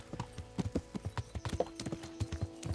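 Horse hooves clip-clop in a steady, brisk rhythm while riding in the video game Kingdom Come: Deliverance, close and distinct with a faint whinny-like tone.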